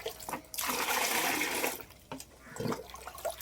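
Water poured into a container to dilute a cup of farm slurry fivefold: a loud, continuous gushing pour lasting over a second, a pause, then a shorter second splash nearby.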